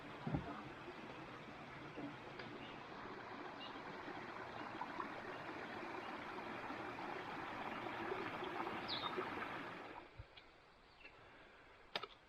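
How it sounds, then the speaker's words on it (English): A small river in Algonquin backcountry flows steadily in a soft, distant wash of water with light ticking trickles, then thins out near the end. "This is a beautiful little river."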